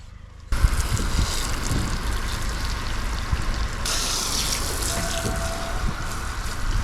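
Tap water running steadily for washing the roof of a Mercedes Sprinter van, a continuous loud gushing hiss that starts abruptly and shifts brighter partway through.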